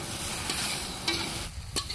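Ginger-garlic paste and green chilli paste fry with softened onions in a pan for a village-style pork curry, a steady close sizzle with a spoon stirring and scraping through it, no voices.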